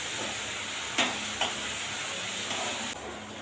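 Onions just added to a hot pan give a steady close sizzle, with a couple of light utensil taps and a slight drop in the hiss near the end.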